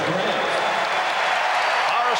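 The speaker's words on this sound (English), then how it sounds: "Horace Grant hearing it from the crowd." A basketball arena crowd at the 1993 NBA Finals Game 3, Suns vs Bulls, roars steadily in a dense wash of cheering and jeering as Horace Grant fouls out, with a commentator talking over it.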